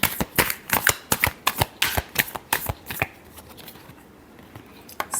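Tarot cards being shuffled by hand, a quick run of crisp riffling snaps and slaps for about three seconds, then a quieter pause before one more flick, close and clear with no talking.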